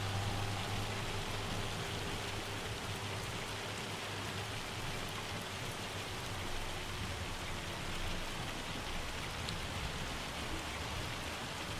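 Hail and rain pour down steadily in the Farming Simulator 25 game, a dense, even hiss with a low rumbling hum beneath, constant and uninterrupted.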